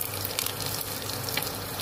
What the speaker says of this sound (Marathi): तेल आपलं गरम झालेलं आहे, आपण आता त्याच्यामध्ये जिरं घालून घेऊ